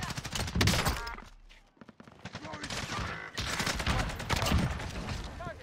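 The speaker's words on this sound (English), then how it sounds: "SMG fire" Submachine gun fire in Warzone Resurgence, dense rapid bursts of automatic shots with a brief pause in the middle, loud and close, mixed with other gunfire.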